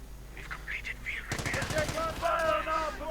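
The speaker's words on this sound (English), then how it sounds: "And a short salvo and one grenadier drops." Rapid gunfire salvo from a real-time strategy game set in a World War II battle, a dense burst of automatic shots from infantry with a Sturmgeschütz assault gun nearby, over steady background battle noise.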